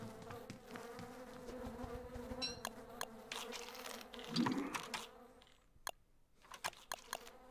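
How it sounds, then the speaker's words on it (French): Flies buzzing around dung in the game Don't Starve Hamlet, a steady droning hum throughout, with sharp clicks and brief pauses near the end. "On entend encore les mouches de la bouse"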